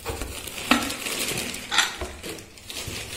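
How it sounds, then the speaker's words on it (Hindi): A Pigeon 5-litre pressure cooker is handled close by, with a few metallic clinks and knocks against a soft rustling background, no voices. "ये पीजन कंपनी का है कुकर, ऐसा कुकर"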